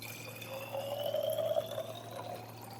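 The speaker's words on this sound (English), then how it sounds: "let's fill this bottle with water" Water poured into a bottle for a laser light-bending experiment, a faint steady trickle with a slowly rising pitch as the bottle fills, lasting a few seconds with no talk.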